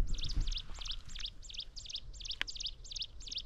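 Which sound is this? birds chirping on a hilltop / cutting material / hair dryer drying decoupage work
birds chirping on a hilltop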